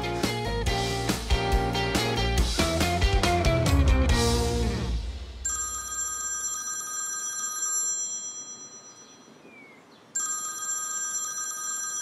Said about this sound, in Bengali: এই লোক আমাকে ফোন দিচ্ছে কেন?